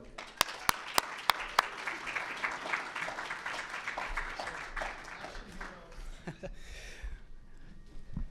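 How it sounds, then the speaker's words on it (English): An audience gives a big round of applause at the start of a show, opening with a few sharp, distinct claps that swell into sustained, dense clapping before fading out. "Please give him a big round of applause"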